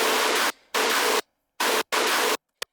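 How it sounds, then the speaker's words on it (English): Heavily distorted tearout dubstep synth blasts as dense walls of noisy sound in four abrupt bursts, each cutting off into short artifact tails and gaps, with a tiny blip at the end, loud and without voices. "It's so distorted that you're getting these crazy artifact tails,"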